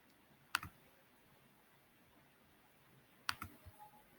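Two sharp computer mouse clicks a few seconds apart, close and quiet against a faint background hiss.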